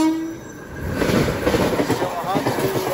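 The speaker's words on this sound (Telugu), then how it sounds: "అది సింహాద్రి ఎక్స్ప్రెస్" The Simhadri Express, running from Guntur to Visakhapatnam, passes at a station near Anakapalli, sounding a horn followed by a loud rolling rumble and clatter of wheels, close by.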